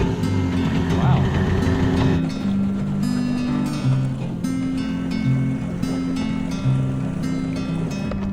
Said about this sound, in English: I managed to break myself a trail just using the big motor all the way over here